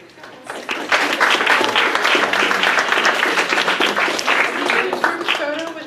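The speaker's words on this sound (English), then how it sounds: "applause to you guys" A German 101 class gets a dense, loud round of applause from the room, rising quickly and staying full throughout, with voices and a few whoops mixed into the clapping.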